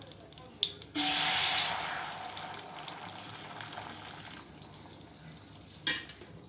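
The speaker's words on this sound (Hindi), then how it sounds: "अब इसमें हम फ्रेश दूध डालेंगे।" Fresh milk is poured into a kadai of melted ghee while making gajar ka halwa. A loud rushing splash hits at once, then eases into a long, softer pour and sizzle, with a small clatter near the end.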